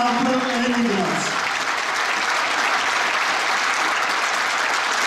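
Sustained applause from the audience at a children's dance ensemble concert, with dense, even clapping filling the hall. A voice rises over it at the start, then the clapping continues alone.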